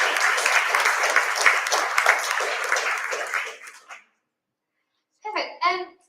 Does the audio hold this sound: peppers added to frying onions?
no